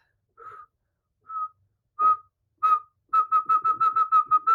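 Human whistling: a few separate short whistled notes, then a quick run of about eight rhythmic repeated bursts at the same pitch, clear and close.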